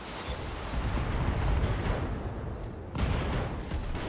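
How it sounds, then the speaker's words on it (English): A mech's ammunition explodes in the game Battletech amid heavy weapons fire, a dense, continuous rumble of blasts with a fresh loud burst near the end. "Ammo explosion."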